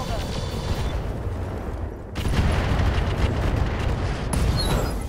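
Ammo explodes after a full mech salvo in the Roguetech video game: a dense, loud roar of blasts and rumble that jumps sharply louder about two seconds in and keeps booming.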